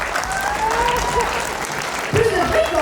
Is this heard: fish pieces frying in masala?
no